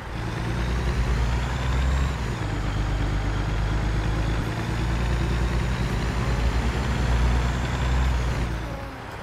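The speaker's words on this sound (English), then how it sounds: "Hurry up, Mr. Garbage Truck." A heavy truck engine in American Truck Simulator rumbles steadily at close range, with a high whine and hissing air-brake releases, while a garbage truck drives nearby in traffic.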